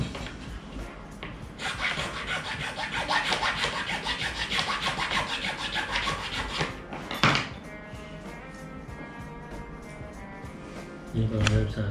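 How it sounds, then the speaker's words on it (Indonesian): Close-up of a hand file rasping a modified RC drift car toe arm, with a long run of steady back-and-forth scraping strokes followed by a few lighter taps and handling noises, while someone talks quietly. "ini juga mesti kikir dikit"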